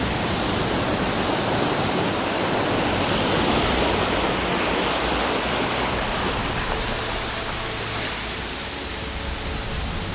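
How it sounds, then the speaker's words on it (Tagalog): A waterfall of fresh water spills into the sea waves at Mauban, Quezon, a broad, constant roaring rush that is loud and steady, easing slightly toward the end, with no voices. "dumadaloy yung tubig tabang papunta dun sa tubig alat at nagsasama dito"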